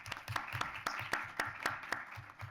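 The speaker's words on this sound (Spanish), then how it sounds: "Un aplauso para Gadea." A small audience at a round-table talk on youth and the future of food claps in sparse, distinct, fairly faint claps at an even, brisk pace.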